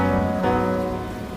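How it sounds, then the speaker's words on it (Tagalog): Steady rain falls in Manila, a short, dense wash of drops on surfaces, loud and close with no pauses and no voices. "It's been raining in Manila"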